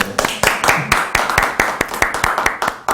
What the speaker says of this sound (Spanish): Un aplauso para el grupo.